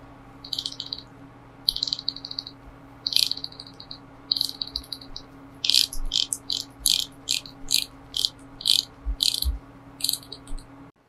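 Seiko Prospex Marinemaster SLA077 dive watch bezel being turned, a crisp series of bright ratcheting clicks in short bursts that quicken midway, close and fairly loud over a steady low hum, with no talking.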